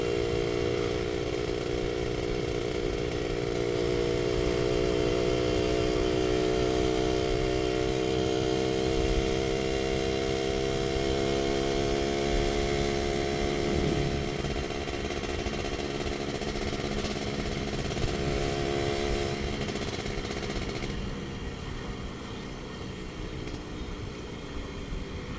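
A Suzuki Satria R 120 motorcycle with an Andyspeed aftermarket exhaust is ridden on a road, its engine droning steadily and loudly with shifting pitch as it accelerates and eases off, with wind noise throughout.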